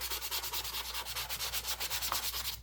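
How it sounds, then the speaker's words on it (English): An electric sander works over the paper of an old junk journal, making a steady rhythmic run of close, loud rasping strokes with no voices. "You can bring in your sander. Just take the light side and"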